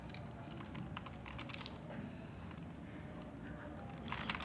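Numbers typed one by one on a computer keyboard while entering input for a program that averages positive numbers, a steady patter of light key clicks throughout, close and moderately loud.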